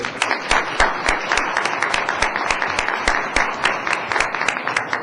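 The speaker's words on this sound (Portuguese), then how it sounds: "Uma salva de palmas, por favor." Audience applause at a Brazilian public-policy event as a panel guest is introduced, a dense, steady run of many hands clapping close and loud for about five seconds with no talking over it.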